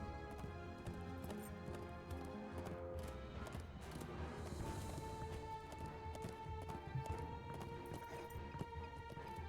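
Horse hooves pound steadily in a gallop in the online game The Lord of the Rings Online, a continuous close rhythm layered over game music and ambience throughout.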